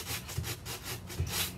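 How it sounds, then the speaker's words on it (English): Steady back-and-forth rasp of 180 grit sandpaper wrapped on a sanding sponge, rubbing over chalk-painted wood, close and continuous, with rhythmic strokes. "I'm using a 180 grit sandpaper, and I've just got it wrapped on a sanding sponge"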